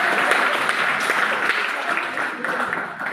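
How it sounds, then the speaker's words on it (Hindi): Sustained applause from an audience, dense and steady throughout, with a few louder bursts; the speaker had just asked the crowd to clap. "ताली बजाइए एक बार के लिए।"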